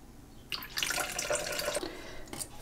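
About 100 grams of water poured into a Thermomix mixing bowl holding strained tomatoes, a short close splashing trickle lasting a couple of seconds with no talking.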